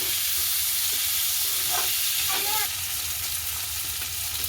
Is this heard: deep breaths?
no